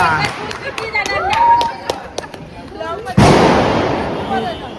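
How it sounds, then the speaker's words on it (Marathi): Audience applause at a Diwali gathering, a sudden loud burst of clapping that breaks in after a stretch of speech and then carries on steadily. "सगळ्यांनी टाळ्या वाजवायच्या टाळ्या"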